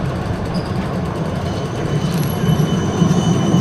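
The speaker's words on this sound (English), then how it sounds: "we'll shoot along that tram as it goes down" A Melbourne tram rumbles steadily past nearby at night, its low rolling drone swelling slightly as it goes, with faint wheel squeal and rattle over the top.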